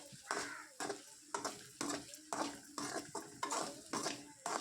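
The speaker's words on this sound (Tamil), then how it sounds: "இப்போ சால்ட்டு சேர்த்து நல்லா மிக்ஸ் பண்ணி விட்டுறேன்" Cooked spinach with salt is stirred in a pan with a metal utensil. Steady rhythmic scraping strokes come roughly twice a second over a soft sizzle, close and moderately loud, with no talk.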